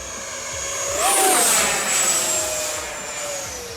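A Freewing Mirage 80mm RC jet flies past with a loud, steady ducted-fan whine that swells as it nears and glides up in pitch, then eases off as it moves away, with no voices.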